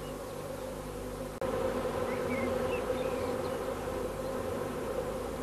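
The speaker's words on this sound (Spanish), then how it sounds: "Las abejas obreras se encargan de acondicionar el nuevo hogar." Worker honeybees inside a hive fill the space with a close, steady, dense buzzing drone that runs continuously, with a brief dip before it swells slightly louder.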